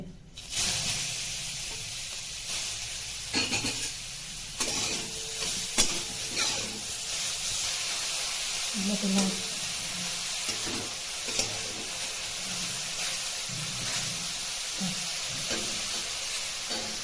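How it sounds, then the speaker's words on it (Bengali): Grated carrots frying in a pan with ghee and cracked cardamom for carrot halwa, a continuous close sizzle with intermittent scraping and stirring knocks throughout. "তো বন্ধুরা দেখো আমি এটাকে ভালো করে ভেজে নিচ্ছি"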